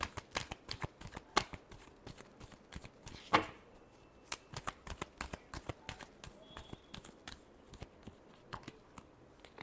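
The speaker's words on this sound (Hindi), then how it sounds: "Last shuffle." Tarot cards being shuffled by hand, close and fairly quiet: a long run of quick, crisp riffling slaps and taps in an uneven rhythm, with one sharper flutter partway through.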